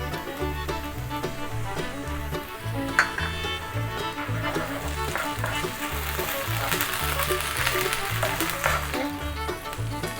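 Onions sizzle steadily in a pan along with ginger garlic paste as chicken samosa filling is cooked, a close, constant frying hiss with occasional stirring clicks and a low, repeating musical bed beneath, and no talking.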